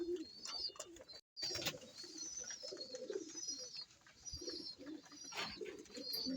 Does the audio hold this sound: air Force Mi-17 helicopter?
no